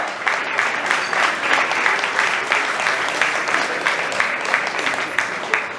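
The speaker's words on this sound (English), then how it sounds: "A round of applause for my erudite father" An audience at a book milestone event applauds steadily, a dense, even patter of many hands clapping close and loud throughout, with a little murmur underneath.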